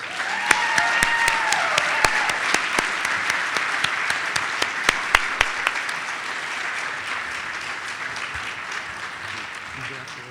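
At a business school Hall of Fame ceremony, a crowd applauds loudly with sharp, distinct claps near the start, then the clapping gradually thins and fades toward the end, with faint voices beneath.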